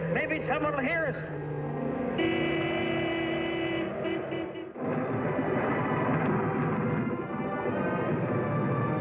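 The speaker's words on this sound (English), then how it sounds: "Keep laying on the horn there." A truck horn honks in repeated sustained blasts during a windstorm, mixed with other engine and road noise, with no speech over it.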